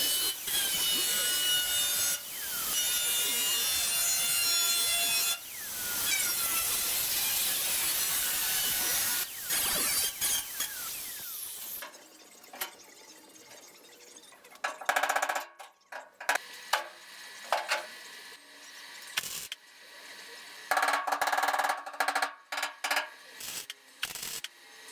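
Trimming a car's rear valance panel that is being fitted to the boot floor: steady rasping, saw-like cutting strokes over the first half, then scattered short scrapes and knocks with pauses.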